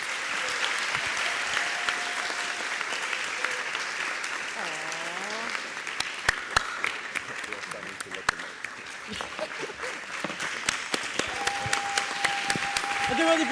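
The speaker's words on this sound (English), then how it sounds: "First an applause. Come on, guys." An assembly crowd at a council general meeting claps in a dense, even spread, with occasional sharper claps and voices talking over it near the middle and end.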